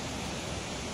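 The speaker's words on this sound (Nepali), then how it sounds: "यति ठुलो झरना" A large waterfall in Australia thunders steadily and loudly, a dense, unbroken rush of falling water with no voices over it.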